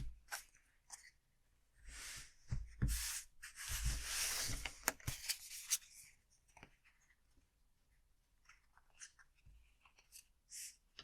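Magic: The Gathering cards being drawn from a freshly shuffled sealed deck, soft papery rubs and slides in close, quiet bursts with pauses between, no talking.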